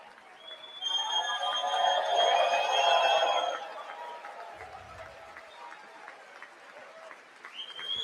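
A crowd at the U.S. State of the Union address applauds and cheers for a few seconds, swelling then thinning out, with tonal whistles or horns sounding over the clapping.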